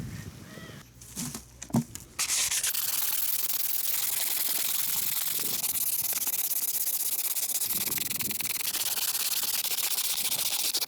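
Steady, continuous rasping of 220-grit sandpaper rubbing against a metal brake caliper, loud and close, starting after a couple of seconds of softer handling noises.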